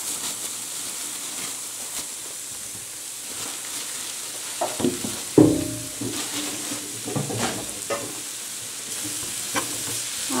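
Sliced onion, carrot, peppers and olives sautéing in a pan while being stirred, a steady low sizzle broken by several scraping stirs and clatters midway, close and without any talk.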